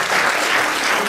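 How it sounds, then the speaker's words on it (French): An audience applauds at a live show, a dense, steady burst of clapping that is close and loud throughout, with no talk over it. "Monsieur Nicolas, vous pouvez l'applaudir."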